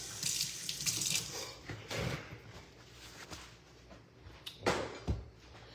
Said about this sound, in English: Get a wet wet towel. Not just any towel, get a wet towel.